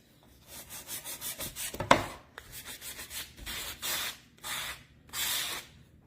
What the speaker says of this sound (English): Take a little bit of my sandpaper along the edges.